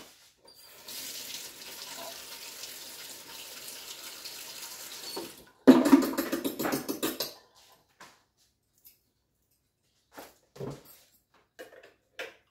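Kitchen utensils are rinsed under a running tap while a chocolate zucchini cake is made: a steady stream of water for about five seconds, then louder splashing and clattering, followed by a few scattered clinks and drips.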